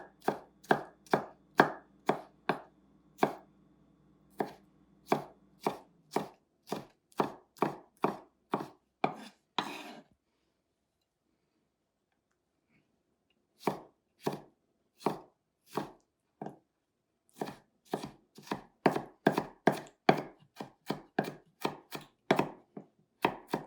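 A knife chops ingredients for Tibetan momo filling on a board in quick bursts of sharp, rhythmic knocks, with a pause of several seconds midway before a faster final run, close and clear with no talking.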